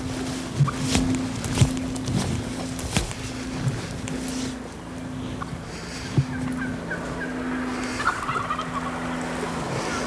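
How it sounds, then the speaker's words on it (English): Wild turkeys gobble at a distance in open air, several rattling calls scattered across the clip over a steady low engine hum. "There's hens out here and gobblers."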